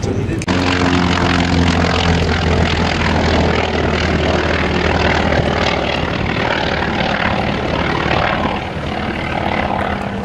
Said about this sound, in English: This is the aircraft taken off.